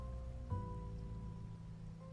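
Rain falling in a video game during the rainy season, a steady soft hiss of rain under low sustained music-like tones, quiet and continuous with no speech.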